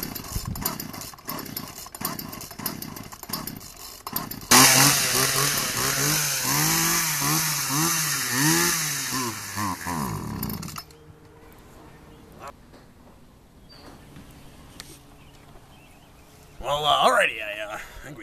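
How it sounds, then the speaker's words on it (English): A chainsaw revs loudly for several seconds, its engine pitch rising and falling as it cuts through a watermelon, then cuts out to quieter background noise, with voices nearby. "We got a chainsaw here, and, I think we're going to take it to the watermelon."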